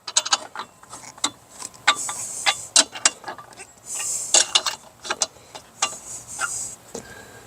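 Socket ratchet hand-tightening lug nuts on a 2006 Chrysler Town and Country during front brake work, a close series of quick clicking ratchet bursts in irregular runs, no speech.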